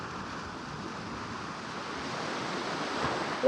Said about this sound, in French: Je me souviens du bruit des vagues qui s'écrasent contre le rocher.